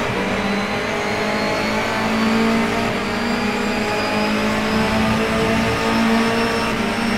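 Race car engines roar through a race, a loud, continuous engine drone that holds steady with slight swells throughout and no talking.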